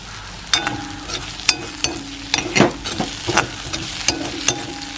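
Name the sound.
onions, pumpkin seeds and curry leaves frying in a pan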